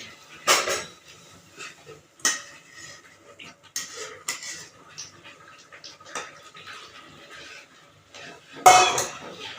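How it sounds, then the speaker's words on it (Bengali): A metal spoon clinks and scrapes against a pan of potato and rohu fish curry in scattered bursts, with a sharper clatter near the end; no one speaks. "চলো একটুখানি নেড়ে দেওয়া যাক"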